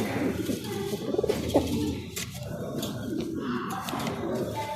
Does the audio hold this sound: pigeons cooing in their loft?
yes